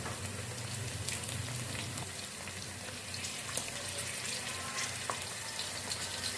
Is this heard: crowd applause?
no